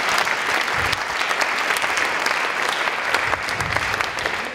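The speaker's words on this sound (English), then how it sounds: "Big applause for the Best Blog." Audience applause at a school election project awards ceremony, steady dense clapping from a room full of people throughout, with no talking over it.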